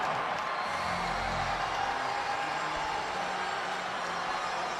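A basketball crowd at the Expo cheers for the Maine Celtics after a third straight three-pointer, producing a steady, loud roar of many voices that holds throughout.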